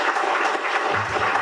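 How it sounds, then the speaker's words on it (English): A seated audience gives a round of applause at the launch of Orinduik Marine Services, with steady dense clapping heard up close and continuing throughout. "I'll ask Tulsi and his family to stand and for us to give them a resounding round of applause."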